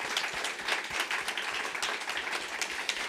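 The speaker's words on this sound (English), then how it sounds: "I think that deserves a round of applause." An audience at a live writers festival panel applauds, dense steady clapping throughout at even loudness, no talk.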